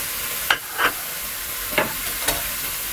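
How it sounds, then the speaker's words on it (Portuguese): Grated carrot being sautéed with rice, garlic and onion in a pan, with a faint steady sizzle and a few soft scraping stirs of a utensil spaced across the moment, no talking. "vou colocar um pouquinho dessa cenoura ralada. Vou dar uma refogadinha nela também."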